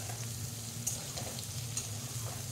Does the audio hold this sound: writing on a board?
no